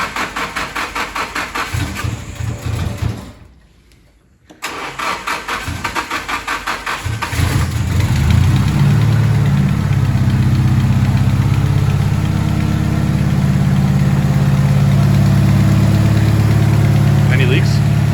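An SR20DET engine fitted with a Garrett G25-660 turbo cranks in loud repeated bursts, cuts briefly, cranks again, then catches and settles into a steady, rumbling idle close by.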